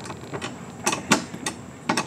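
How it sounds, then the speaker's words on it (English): Wrench work loosening the saddlebag hardware on a cruiser motorcycle, heard as scattered metallic clicks and ratcheting creaks at close range, irregular and fairly quiet. "my boy's wrenching right here. Keep wrenching. It takes a minute to get these things off."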